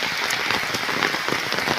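Heavy monsoon rain pours down outdoors in a dense, steady hiss with scattered sharper drops pattering on surfaces nearby, continuous and fairly loud throughout, with no talking.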